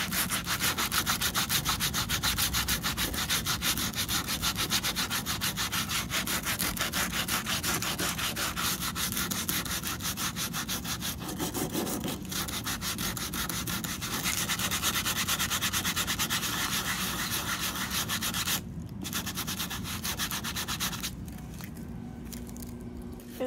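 Continuous rough sanding of body filler on a Tesla Model 3 scrapes on for a long stretch, steady and close, easing off briefly near the end.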